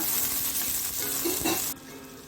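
Chicken coated with chilli flakes and cheese fries in a pan, sizzling loudly up close as pieces are turned over, then the hiss drops off abruptly near the end.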